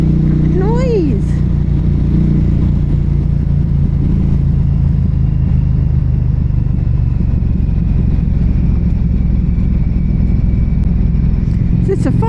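A 2023 Norton Commando 961 SP motorcycle engine runs with a loud, steady, deep rumble that stays close and constant throughout, with no pause or drop in level.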